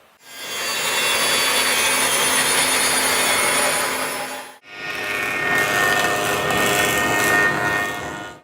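Wooden boards being hand-sawn to rough length for a workbench top, a steady rasping saw stroke running loud and close for about four and a half seconds, a brief pause, then resuming for several more seconds with no talking.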